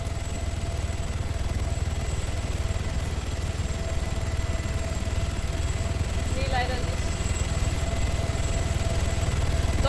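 Helicopter in the video game ARMA 3, a continuous low rotor thrum and engine whine droning steadily at constant volume, with a brief faint chirp partway through and talk over it.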